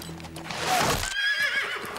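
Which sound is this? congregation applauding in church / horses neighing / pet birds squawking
horses neighing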